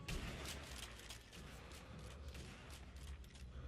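Gunfire rings out in the video game Sniper Elite V2 as a dense run of repeated sharp shots and bangs, steady throughout and moderately loud, with no speech.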